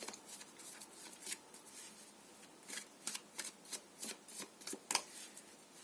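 Tarot cards shuffled by hand in a series of soft, rapid riffling bursts, close and fairly quiet, with no talking.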